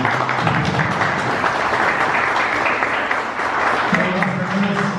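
At an opening ceremony, a crowd claps steadily in thanks to their museum guide, with dense, even applause and a low murmur of voices beneath it.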